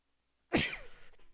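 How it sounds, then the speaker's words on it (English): A single close, sharp sneeze bursts out after a moment of quiet, followed by a few soft breathy sniffs and rustles. "I gotta sneeze."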